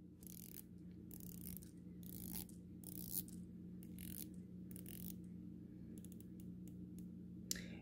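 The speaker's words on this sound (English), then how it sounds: "we're going to have some play with any bezel if we want to hear that clicking action" Rotating bezel on a Ginault Ocean Rover dive watch being turned, producing bursts of crisp ratcheting clicks in quick runs separated by short pauses, close and quiet against a faint background hum.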